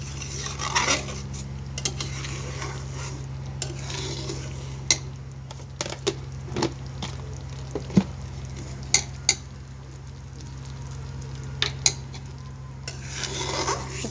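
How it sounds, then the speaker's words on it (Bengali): A spoon stirs chicken haleem in a cooking pot, with soft scraping and occasional sharp clinks against the pot over a steady low hum of the stove. "তো এবার আমি হালকা হাতে নাড়াচাড়া করে সুন্দরভাবে আমি মিশিয়ে নিচ্ছি"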